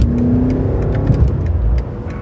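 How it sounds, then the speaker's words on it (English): A 2003 BMW M5 sports sedan's engine hums and surges while driving, a dense, loud, continuous mid-range drone with slight revving swells and road noise, heard from inside the car without any speech. "we're doing it at the wheel of Gladwell's own 2003 BMW M5"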